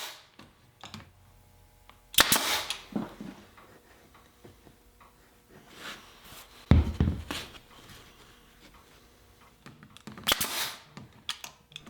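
Nail gun firing 1.25 inch nails into a wooden canvas stretcher frame, a few sharp loud bangs spaced several seconds apart with quiet shop handling between.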